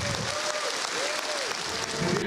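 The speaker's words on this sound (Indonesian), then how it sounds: "tepukan saudara-saudara sekalian" A hall full of Malaysian Ministry of Defence staff applauds at a TN50 dialogue session, a faint, even spread of clapping with a voice talking over it.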